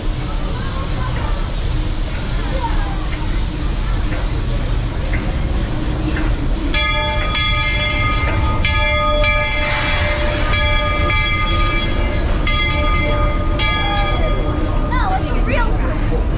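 The Walt Disney World Railroad train rumbles steadily along the tracks around the Magic Kingdom while a series of tonal chimes or horn notes sound repeatedly, with people talking faintly underneath.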